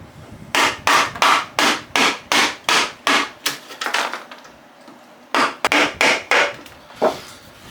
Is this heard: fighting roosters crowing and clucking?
no